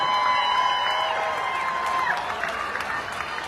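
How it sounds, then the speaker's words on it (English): Crowd applause and cheering for the organisers at an outdoor traditional Irish music festival in Mullingar, a sustained wash of clapping with whoops rising above it and some voices mixed in. "Give them a big round of applause."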